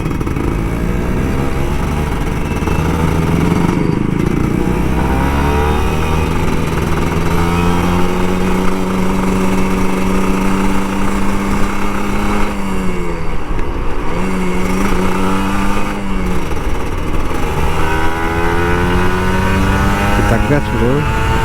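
An old Kawasaki Ninja RR 150 two-stroke motorcycle revs and accelerates on a rough road, engine pitch rising and falling repeatedly through gear changes, loud and close throughout, with someone talking over it at times.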